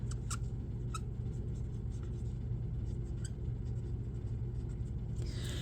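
A pen scratches across paper while a meal plan is jotted down in a home kitchen: faint, intermittent scribbling strokes over a constant low rumble.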